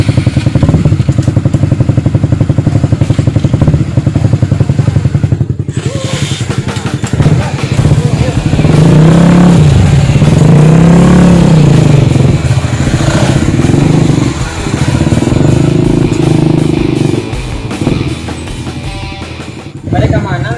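A big motorcycle engine rumbles loudly up close, with the revs climbing and falling midway, while voices talk over it.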